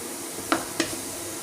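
Ground spice paste fries in oil for an egg korma, a soft steady sizzle broken by two quick scrapes of a spoon stirring it.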